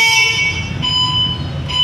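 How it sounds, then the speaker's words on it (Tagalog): An e-bike horn sounds in short, thin electronic toots, close and clear, two quick beeps over low background rumble. "Yung busina, no?"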